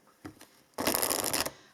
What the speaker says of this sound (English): we will shuffle and choose 6 cards as we always do in the weekly